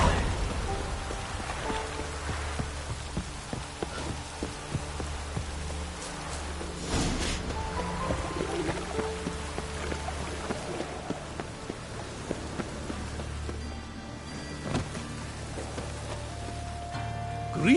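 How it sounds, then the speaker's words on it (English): Steady rainfall in The Witcher, a dense even patter on surfaces throughout with scattered drips and faint background game sounds. "Looked like it would rain, and here it is."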